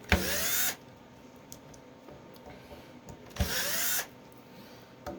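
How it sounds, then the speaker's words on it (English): A handheld power drill with a bit spins screws out of the plastic handles of a resin printer vat, two loud whirring bursts of under a second each near the start and near the end, quiet handling in between. "I put them in my drill."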